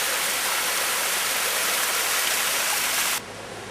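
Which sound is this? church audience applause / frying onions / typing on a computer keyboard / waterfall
waterfall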